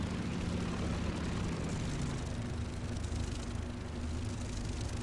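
A propeller aircraft engine drones in War Thunder during a dogfight near a Japanese Zero, a loud, steady low hum with harmonic whine running unbroken throughout, with no talk.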